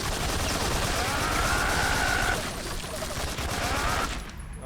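Rapid bursts of gunfire from a gun in Metal Gear Solid 3, loud and dense, firing continuously before cutting off abruptly near the end.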